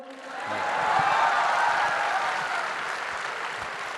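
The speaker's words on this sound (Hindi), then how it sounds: "ताली बजाओ।" Audience applause at a summit event fills the room, a steady wash of many hands clapping that swells early and holds at moderate loudness throughout.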